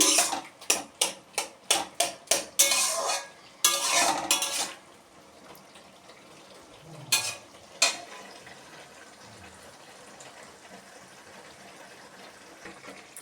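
Bottle gourd cooked Bangladeshi style in a pan: a run of sharp, rhythmic spoon-on-metal clanks from stirring, then a few isolated knocks before the pan settles into a faint, quiet simmer.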